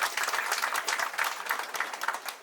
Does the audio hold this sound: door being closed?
no